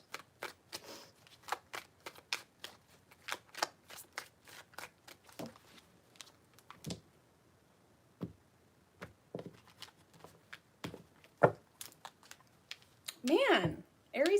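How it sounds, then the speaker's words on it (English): Tarot cards shuffled three times during a zodiac reading, giving a run of quick, crisp riffling snaps and flicks close by, with soft rustles between bursts and a brief louder scrape near the end. "3 shuffles."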